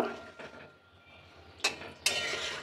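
A spoon scrapes and clinks against a pan while shol fish kalia with potatoes is stirred, giving a few quiet, close taps and scrapes with soft sizzling between them.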